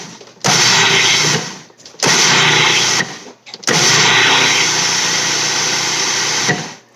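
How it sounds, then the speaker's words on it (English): Food processor grinding homemade gomasio, whirring loudly in three bursts, the last one longest, with short gaps between pulses, close by. "you can grind it in a food processor"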